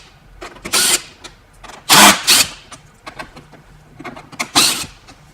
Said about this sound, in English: To do this, we have an 8mm socket and our impact here.